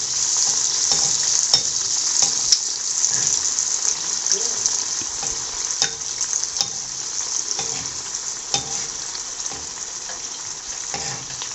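Adhirasam, a sweet festive fritter, deep-fries in oil on a stove turned to low heat, giving a steady, moderate bubbling sizzle with occasional small pops and faint background voices.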